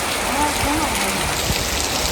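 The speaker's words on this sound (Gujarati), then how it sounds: "કેવો મસ્ત વરસાદ પડે" Steady rain falls in a village in Botad, a continuous close hiss of drops on the ground with a few faint voices in the background.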